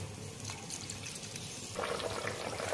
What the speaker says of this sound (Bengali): এরপরে আমি পরিমাণ মতো ঝোলের জল দিচ্ছি